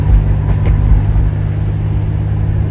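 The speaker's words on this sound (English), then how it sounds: "As soon as that boost kicks in, boy, those tires started to roll." A junkyard-rescued turbocharged Buick Grand National accelerates on boost, its engine a loud, close rumble as the tires break loose and spin, the throaty note steady throughout with no voices.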